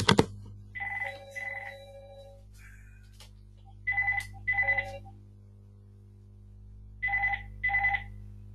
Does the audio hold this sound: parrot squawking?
no